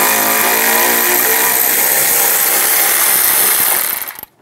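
A powered tool spins a 10mm socket to remove a bolt near the starter of a 1998–2010 Volkswagen Beetle. It makes a loud, steady, close whirring drone for about four seconds, then cuts off abruptly.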